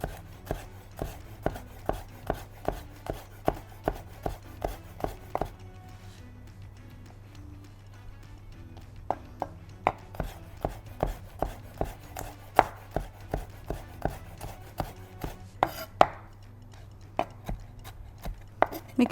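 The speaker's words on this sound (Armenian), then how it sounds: "Ուրեմն, բղբեղները մանր կտրատում ենք։" Bell peppers chopped finely with a knife on a board: rapid, evenly spaced close knife strikes in long runs, with a brief pause midway.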